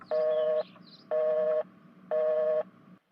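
A telephone call tone sounding as a steady series of identical beeps, each about half a second long with equal gaps between them, clear and close with no voices.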